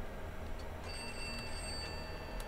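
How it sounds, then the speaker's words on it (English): Telephone ringing inside a house in the game Pineview Drive, a faint high electronic ring pulsing over a constant low ambient hum, heard from some distance. "there's a phone ringing"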